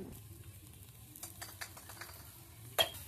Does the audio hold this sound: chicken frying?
yes